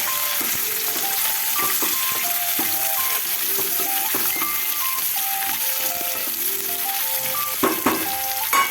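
Onions and curry leaves sizzle steadily in a pan, a dense, continuous frying hiss with occasional stirring clinks, close and fairly loud, no talking.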